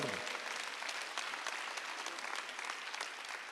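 A church congregation claps together during a Sunday service, a dense, steady wave of applause that holds for the whole stretch, heard from some distance in a reverberant hall.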